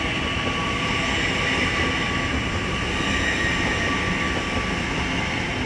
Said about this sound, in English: Azuma service from Newcastle to London King's Cross is now departing.